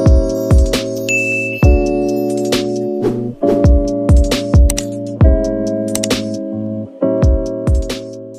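A bright ding-dong notification bell chimes again and again in a loud, ringing pattern of struck tones that overlap and decay, with no voices.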